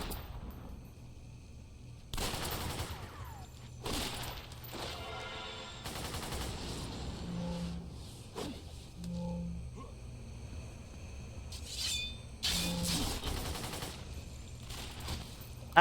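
Enemy fire in a sci-fi shooter game: scattered bursts and single shots at moderate to low level, spaced out over the stretch, with short tonal game blips between them.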